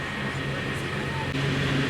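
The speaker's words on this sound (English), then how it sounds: "I'm not sure if I've ever been on a train quite as fast before in the UK." Steady rumble of a fast SNCF train moving, heard from inside the carriage, a continuous close drone with a low hum running throughout.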